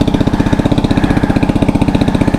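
A home-built Frankenbike motorcycle engine idles close by, a loud, steady, rapid thumping pulse with an even rhythm.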